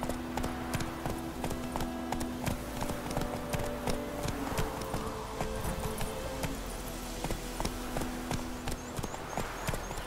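Horse hooves clip-clopping in the video game The Witcher 3, a steady trotting rhythm of hoof beats over continuous ambient music and background sound.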